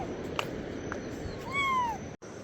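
A small kitten gives a single clear, rising-and-falling meow midway through, close and fairly loud, over steady background hiss in a room of a Pahadi home during rainy weather; a faint click comes earlier.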